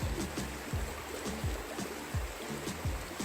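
Fast river water rushes steadily on a Nepal riverbank as a soft, continuous wash with faint trickling and repeated low knocks. The sound stays fairly quiet and even, and no one speaks.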